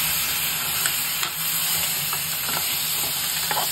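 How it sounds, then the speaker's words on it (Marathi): Mud crabs frying in a pan with onion, coriander and salt for a Malvani crab curry, a close steady sizzle and hiss with occasional stirring scrapes. "मी घालणार आहे हे खेकडे, चांगले परतून घ्या"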